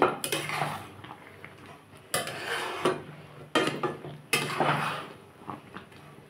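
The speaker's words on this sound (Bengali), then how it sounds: "কুলগুলো নরম হয়ে গেছে, তো একটু আমি খুন্তি দিয়ে একটু ফাটিয়ে দিচ্ছি।" Softened jujubes (kul) for pickle are pressed and cracked with a metal spatula in a pan, giving sharp repeated metallic scrapes and clanks, about five distinct strikes with mushy stirring between them.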